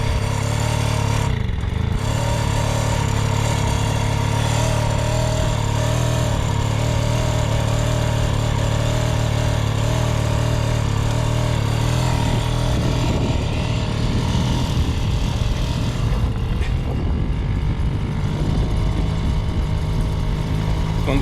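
An old Mobyx moped engine that sat for over 40 years without running buzzes loudly and steadily up close. The throttle is worked with little change in pitch, and the engine grows rougher and more ragged toward the end.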